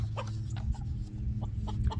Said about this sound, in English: That chicken just laid an egg. You hear all that squawking